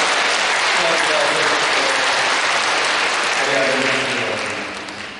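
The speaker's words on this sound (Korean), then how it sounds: "우리 힘차게 박수 축복하겠습니다" Church congregation at a Sunday worship service breaks into vigorous, dense applause that holds steady, then fades toward the end, with voices faintly mixed in beneath.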